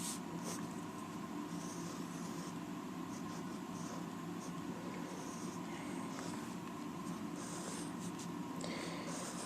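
A pencil sketches on paper with continuous close scratching and scraping strokes, some short and quick, others longer, at a steady pace and without speech.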